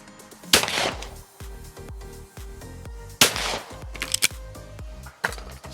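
Two loud, close shotgun blasts from a Fausti XF4 at clay targets, each with a sharp crack and fading ring, followed by clicks and handling of the gun.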